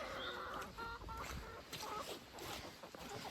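Backyard chickens cluck softly in short, scattered calls, fairly faint against a steady outdoor background, with no clear talking.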